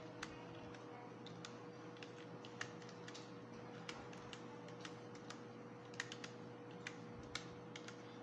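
Someone types on a computer keyboard into a search box in MS Word: soft, irregular key clicks over a constant low hum, quiet and close.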